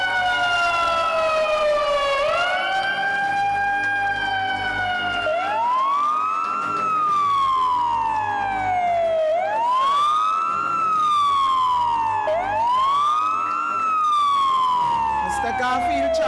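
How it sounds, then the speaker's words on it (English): An emergency vehicle siren at a Tobago Emergency Medical Services ceremony wails loudly and continuously, its pitch sweeping up and down in repeated long cycles for the whole stretch, close and dominant with a low rumble underneath. "Blue lights, siren"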